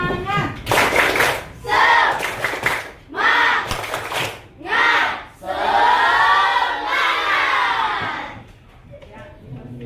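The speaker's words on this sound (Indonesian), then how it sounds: "Tepuk semangat." A group of students in a classroom performs a rhythmic spirit clap: loud bursts of chanted shouting alternate with clapping, building to a longer collective cheer that fades out.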